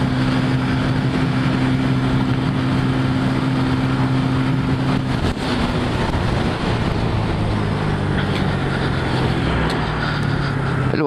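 A Hero Ignitor i3S motorcycle cruising at about 100 km/h with throttle to spare, a steady loud drone of engine hum mixed with heavy wind rush that continues unbroken throughout.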